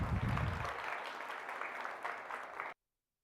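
A crowd applauds at a women-in-tech conference, a faint, even wash of clapping that holds steady and then cuts off abruptly, with a low rumble at the start.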